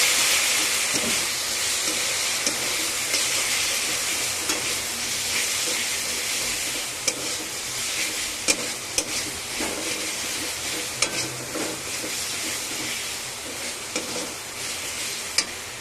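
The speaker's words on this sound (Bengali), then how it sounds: "দিয়ে মশলাগুলো ভালো করে মিশিয়ে নেব।" Ground cumin and coriander being stirred into sizzling chicken kosha in a frying pan, a continuous near hiss of frying broken by scraping stirs and a few sharp clicks of the utensil against the pan.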